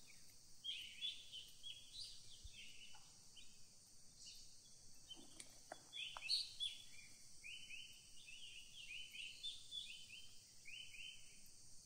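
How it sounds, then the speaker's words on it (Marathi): Birds singing in Andharban forest sanctuary, faint repeated chirps and short calls over a soft steady insect hum, distant and quiet throughout with no voices. "पक्ष्यांचा किती सुंदर आवाज येतोय बघा,"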